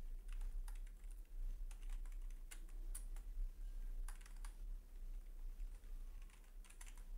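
A computer keyboard is tapped in short bursts as a profile title is entered, clear clicking keystrokes grouped with gaps between them over a quiet background hum.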